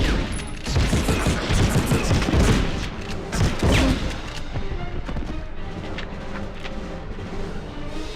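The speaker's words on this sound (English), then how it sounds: "I wanna shoot the one that's shooting me!" A heavy exchange of gunfire in an underground Medal of Honor battle, loud volleys of shots and blasts crowding the first half before thinning into scattered, quieter fire.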